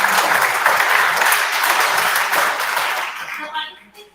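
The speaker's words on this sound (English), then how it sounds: "it would be unfair if we don't appreciate these talented students with a big round of applause" Audience applause for talented students at a National Mathematics Day event, a dense round of clapping that holds for a few seconds, then tapers and dies away as a voice begins.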